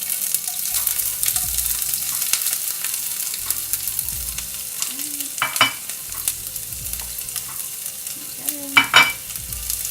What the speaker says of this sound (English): So I'm gonna add our onions now.